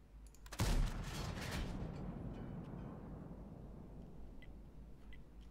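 A tank cannon fires in World of Tanks, one sharp, heavy blast followed by a long rumbling decay that slowly fades over several seconds, fairly quiet overall.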